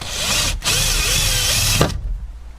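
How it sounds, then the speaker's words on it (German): Power drill boring a hole through plastic interior trim of a VW Golf 4, a loud close steady whine that dips briefly partway through, then cuts off sharply near the end. "ich bohre jetzt das eine Loch, wo wir hier nachrüsten müssen"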